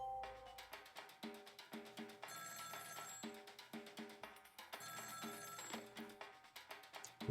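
Repeated electronic telephone ringing from the Ghost Trick video game, a bright trilling ring in quick regular bursts with short pauses, fairly faint and alone.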